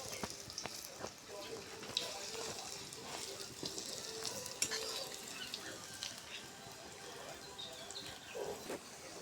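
Banana flower fritters sizzle in hot oil in a home kitchen, giving a soft, steady crackling hiss with scattered small pops at low volume.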